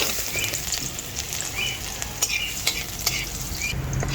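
Garlic sizzles steadily in hot cooking oil in a pan, with a continuous close frying hiss and a few sharp crackles and pops scattered throughout.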